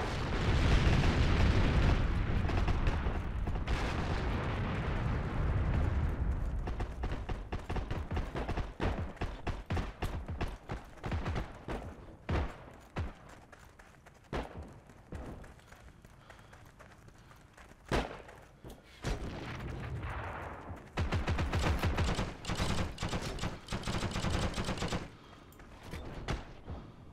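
Intense gunfire from the World War II shooter Heroes and Generals during hip-fire killing sprees, a loud opening barrage thinning into sharp scattered shots and bursts, no talking.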